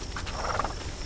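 A horse in a Tamil film scene gives a short whinny, set against steady hoof clatter and busy background noise, with no one talking.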